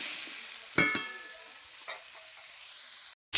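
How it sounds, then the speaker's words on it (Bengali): Onion fries and sizzles in a pan as a utensil stirs and scrapes, giving a couple of sharp clinks early over a quiet steady sizzle, then a brief cut to silence. "এবারে পেঁয়াজের সাথেও ভালো করে ভেজে নেবো জিনিসটা।"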